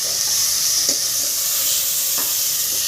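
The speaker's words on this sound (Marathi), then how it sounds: "1-2 मिनिटं टोमॅटो चांगलं परतून घ्यायचं." Tomatoes sautéing in a hot pan for methi dal, a steady bright sizzle filling the whole stretch, with a few soft stirring clicks near the start and middle.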